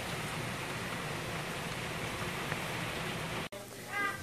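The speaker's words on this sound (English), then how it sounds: "I can also hear it going, like, the rain falling on my roof" Rain falls on a roof during Hurricane Irma, a soft, steady patter and hiss that goes on evenly for a few seconds before a sudden break, after which a faint voice is heard.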